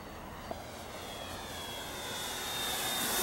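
A radio-controlled Focke-Wulf FW 190 model airplane takes off, its engine a steady buzzing drone that swells louder and rises slightly in pitch as it accelerates away, with no voices.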